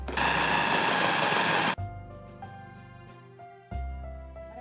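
A food processor whirs loudly while grinding a salmon pâté mixture, then stops abruptly and leaves a quieter stretch of clatter and tones before a second short burst of motor noise.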